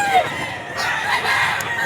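A Henny rooster crows among other chickens at a busy pet market, the call loud and close over a steady murmur of crowd noise.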